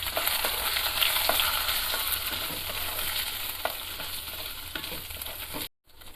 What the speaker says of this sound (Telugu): ఇవన్నీ వేసుకుని ఇది కూడా బాగా ఫ్రై చేయండి